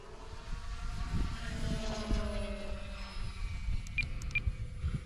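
A balsa wood model airplane flies by on an electric motor, producing a steady buzzing drone at moderate distance over outdoor background noise, with a few faint high chirps near the end and no speech.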